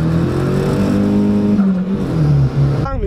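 A VW Lupo with a 1.8T turbo engine and GT28 turbo accelerating hard from a standstill to 100 km/h, a loud, close engine drone with rising tones through gear changes, with a speaking voice faintly under it.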